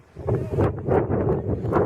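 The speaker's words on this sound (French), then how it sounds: "Je m'excuse pour le vent." Gusty outdoor wind buffeting a microphone during metal detecting, a low rumbling roar that surges in uneven waves and stays loud throughout, with no voices.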